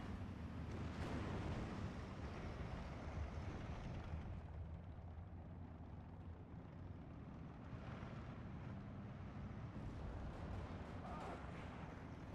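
A Panther tank's cannon firing in the Steel Division game amid a dense battle din: heavy booms and rumbling explosions blend into continuous low roaring war noise, with a voice talking over it.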